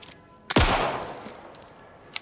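A single gunshot in the survival horror video game Alan Wake 2 fires loud and close, then a long booming tail fades away, followed by faint small clicks.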